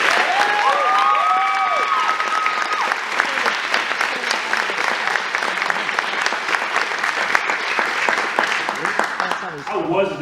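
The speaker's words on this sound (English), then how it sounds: "A round of applause for Professor Dylan" A room of debate-awards guests applauds Professor Dylan, a sustained wash of clapping that holds steady and then tapers off at the end, with a few tones sounding early on.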